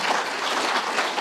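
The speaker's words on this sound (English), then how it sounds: "You can clap for that" A crowd applauds at a Kiwanis Farm City Week gathering in Bradenton, giving a steady, dense wash of clapping from many hands that holds evenly for just over a second with no voices over it.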